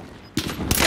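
Video game gunfire, two loud broadband bursts of shooting after a quieter start, the second sustained to the end like rapid fire.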